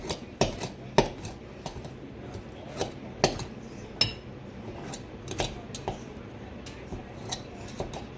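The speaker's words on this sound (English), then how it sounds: "this is just cutting the butter." A knife cutting through butter, producing a series of sharp, irregular clicks and scrapes against a board or dish, close and fairly quiet, with no talking.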